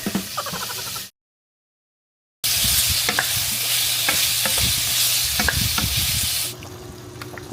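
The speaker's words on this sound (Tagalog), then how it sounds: "Kumukulo na." A steady bubbling, sizzling sound from a pot of pinapaitan boiling, close and fairly loud, cut by a brief moment of silence near the start.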